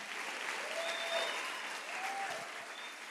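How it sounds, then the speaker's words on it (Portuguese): Church congregation applauding at a Portuguese preaching event, dense steady clapping throughout with a few faint cheers, no speech over it. "Glória a Deus, aplauda Jesus mais uma vez."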